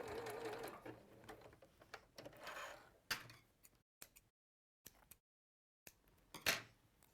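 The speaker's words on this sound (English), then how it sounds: "Just do a seam there. That's across the top now, so you're finishing the top." A domestic sewing machine stitches a seam across the top of a garment with a whirring run that stops and restarts. Short bursts and clicks follow between quiet pauses.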